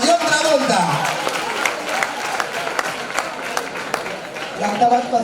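Audience applause and crowd noise at a school talent show performance, a loud, dense clatter of clapping with cheering, mixed with voices and a rising shout near the start and end.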